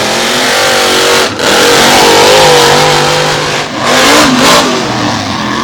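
Monster truck engines rev hard at a staged drag-race start, Avenger and Bounty Hunter side by side: a loud, continuous roar with rising pitch, briefly dipping twice as the throttle lifts, with no talk.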